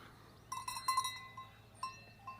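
Cowbells clanking from cows grazing in a Dolomites meadow, a few bright metallic clanks in uneven bursts, fairly close but soft over quiet outdoor background.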